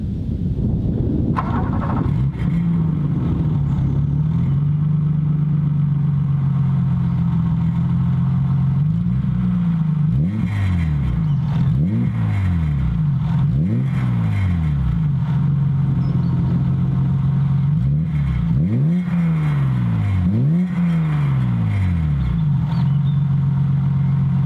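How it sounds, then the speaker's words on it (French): A 1987 BMW E30 325i convertible idles with its original exhaust line and a Sebring dual-outlet silencer, giving a steady, deep burble that swells in several short revs before settling back to idle, close and loud with no talking. "c'est un silencieux double sortie de la marque Sebring, monté sur la ligne d'origine"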